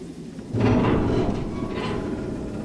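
Thunder rumbles through a lightning storm in The Walking Dead video game, a low, broad roll that swells after a quiet start and stays loud, with a second surge of crackle near the end.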